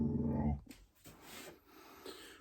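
A dog whimpering after losing her ball, a loud, tonal whine in the first half second followed by quieter snuffling breaths and small whimpers, close by.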